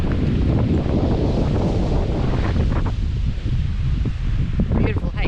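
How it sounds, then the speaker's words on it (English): Strong wind on an exposed Scottish shoreline near Islay and Jura buffets the microphone in a loud, continuous low roar, with surf-like rushing underneath throughout. "It's still a bit windy"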